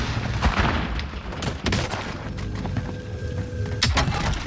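A grenade blast and gunfire in Call of Duty: Warzone Pacific, with dense bursts of shots and heavy booms over a constant rumbling game backdrop, several loud cracks coming close together near the end.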